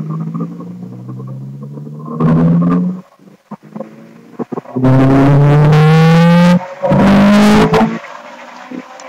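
A turbocharged Honda S2000 AP1 engine revs hard at full throttle on a logging run, rising through the revs in loud, close sweeps, with brief lifts and gear-change gaps between pulls.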